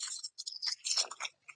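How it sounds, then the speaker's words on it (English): Plastic box being handled, close and quiet: brief clicks, scrapes and rustles in short bursts over about a second and a half. "sorry about the noise, plastic is loud"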